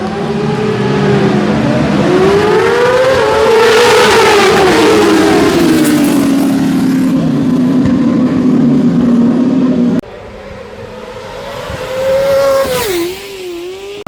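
Racing motorcycles roar at the start of a wet race at Oliver's Mount, loud sustained engine revving with rising and falling pitch as they pull away, followed by a quieter stretch and another passing engine near the end.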